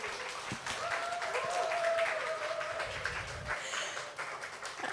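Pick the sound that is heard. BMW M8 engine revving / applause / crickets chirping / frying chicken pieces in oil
applause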